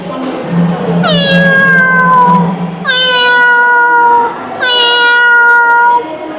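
A human voice imitates a cat meowing: three long, drawn-out meows, loud and close, each sliding down in pitch, with a low hum before the first.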